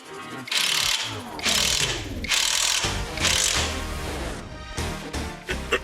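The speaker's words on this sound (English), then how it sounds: "Screw the ball joint nut." A ratchet tightens a ball joint nut on a Citroen C3 tie rod, giving loud, close bursts of rapid clicking in several quick strokes with short pauses between them.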